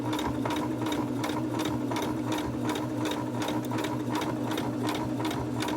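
A sewing machine stitches a zigzag along coiled rope for a rope bowl, its needle thumping in a fast, even rhythm with a steady motor hum, close and continuous with no talk.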